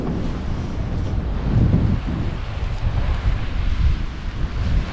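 Waves and wind on a large sea beach, a loud continuous roar of surf with heavy wind gusts buffeting the microphone and swelling in intensity.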